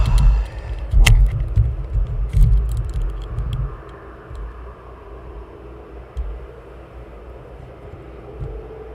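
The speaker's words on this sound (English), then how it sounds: "Is that one departing?" An aircraft departs East Midlands Airport, a low rumbling engine roar that swells loud early with some sharp knocks, then eases to a quieter steady drone.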